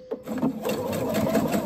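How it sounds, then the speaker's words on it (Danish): A sewing machine runs steadily at close range, stitching a sleeve onto a cuff, its fast even whir starting abruptly after a brief click and continuing alone. "så syr jeg ærmet fast på manchetten her"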